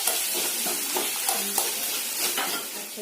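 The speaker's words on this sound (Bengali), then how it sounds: "পেঁয়াজটা ভাজা হয়ে গেছে" Onions fry in a pan for vegetarian biryani, giving a steady broadband sizzle with scattered stirring scrapes and clinks, moderately loud and close.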